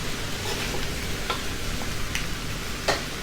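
Thai fried rice with crispy snakeskin gourami fish being stir-fried in a wok over high heat, a constant close sizzle broken by scattered scrapes and taps of the spatula against the pan.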